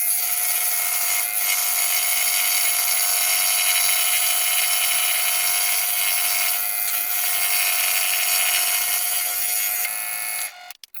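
A scroll saw cutting wood gives off a loud, steady buzzing whine that runs unbroken for about ten seconds before cutting off abruptly at the end.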